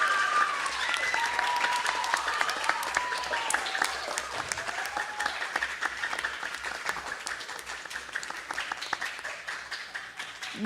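Audience claps for third-grade participants at a school spelling bee, a continuous crackle of applause at moderate level, with a few bright whooping voices rising over the clapping.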